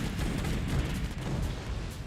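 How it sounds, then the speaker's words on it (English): Continuous booming explosions in the Forts real-time strategy game, a dense, loud rumbling barrage of blasts and gunfire that runs unbroken with no pauses and no talk. "And there are explosions happening"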